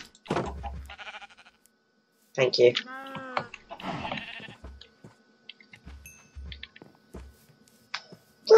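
A cow moos once in a Minecraft survival multiplayer game, a clear drawn-out bleating low call set among game clicks and thuds, with someone talking briefly.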